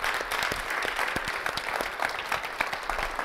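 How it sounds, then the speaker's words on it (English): Young players at a practice give a round of applause, a steady burst of quick, sharp claps from a small group, close and moderately loud with no talking. "So can you guys give them a round of applause?"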